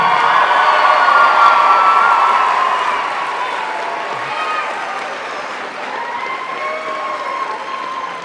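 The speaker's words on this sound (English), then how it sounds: "One more round of applause, Trent Ellison." A crowd at a high school awards event in a gym or hall claps and cheers steadily for a student. Loud whooping and voices ride over the applause, easing slightly toward the end.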